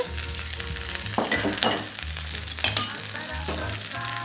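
Cooked rice tipped into a pan of sesame-garlic pulihora mixture, with a crackling sizzle, a few bumps and scrapes, and steady stirring.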